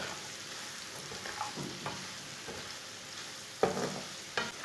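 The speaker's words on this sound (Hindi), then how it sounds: "अब इसे 1 मिनट तक भून लेंगे। हल्की सी आंच पर भूनना" Okra with egg masala and chilies roasting gently on low heat, a soft steady sizzle with intermittent scraping stirs and a couple of sharper knocks near the end, no voices.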